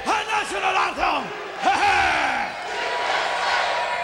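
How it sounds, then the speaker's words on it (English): A wrestling arena crowd in the US chants in unison, with rhythmic rising shouted syllables repeating several times, loud and close, blending into a sustained crowd roar. "You hear the crowd chanting USA."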